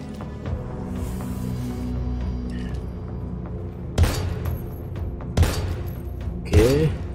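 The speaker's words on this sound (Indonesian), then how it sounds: "Kita habiskan dulu amunisi yang pistol kecilnya." Gunfire in the survival horror video game Daymare 1998, fired from a small pistol: three loud, sharp booms, spaced a second or more apart, over a steady dark in-game ambience.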